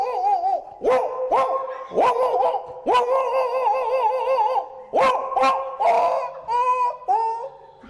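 A man imitates a rural village pet dog barking, giving a series of loud, whining bark-like yelps in repeated bursts, about eight in all, spaced roughly a second apart.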